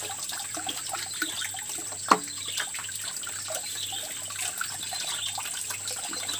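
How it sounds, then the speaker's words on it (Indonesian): Spring water runs steadily down from a hillside source, a continuous close splashing flow with small drips and a brief louder splash, heard alone. "Air mata air dari atas."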